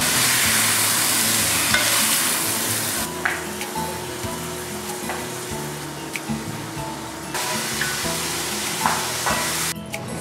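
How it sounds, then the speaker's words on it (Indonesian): Ground chuck and wagyu beef mince fries and sizzles steadily in a hot pan, close and loud, with scraping stir strokes running through the whole stretch and no talking. "sekarang aku mau masukin daging gilingnya"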